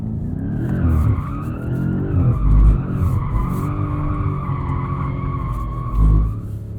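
Tires of a 2021 BMW M5 Competition squeal loudly and continuously while drifting, the pitch wavering over a low engine rumble with a couple of deeper bursts of revving.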